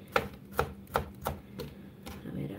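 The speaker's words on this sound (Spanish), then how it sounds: "Estoy picando el tomatito bien chiquitito." Knife chopping tomato finely on a board, about six crisp, evenly spaced cuts in a steady rhythm, close and clear with no talk.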